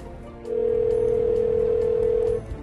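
An art-installation public telephone that randomly dials strangers in the community gives one loud, steady ringback tone lasting about two seconds, heard up close over faint background noise.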